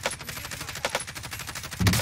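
Gunfire in the battle royale game Warzone: a quick run of shots over about two seconds, each a sharp crack, with a heavier burst landing at the end. No one speaks over it.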